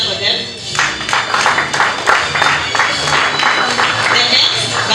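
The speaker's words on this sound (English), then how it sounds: "Let's clap for them." An audience claps at a graduation ceremony in Nairobi, a loud, steady wash of many hands with bursts of rhythmic clapping and a few voices in the crowd.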